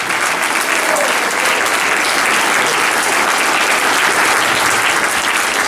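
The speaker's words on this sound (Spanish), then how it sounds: "Den un fuerte aplauso al Señor." A church congregation at a Pentecostal service claps loudly and continuously, a thick, even roar of applause that fills the whole stretch without pause.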